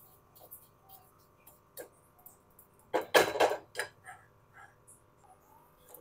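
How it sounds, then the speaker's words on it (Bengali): Caramel being stirred in a pan gives soft metallic clinks and scrapes, with one louder cluster of scraping strokes in the middle and quieter taps around it. "বারে বারে নেড়ে নেড়ে ক্যারামেলটা একটু আমি নেড়ে দেব।"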